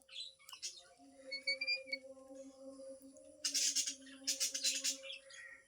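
A pet talking parrot gives several sharp, bright squawks and chirps in a home, close and fairly loud, with brief whistled tones and a faint steady hum underneath.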